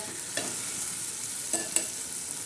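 Whole okra stuffed with crushed peanut masala fries in oil, giving a steady hiss of sizzling with a few sharp stirring taps against the pan; no talking.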